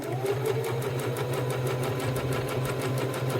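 A sewing machine stitches steadily across the top of a cork wallet's card pocket, a fast even needle rhythm over a constant motor hum, close and loud with no talking.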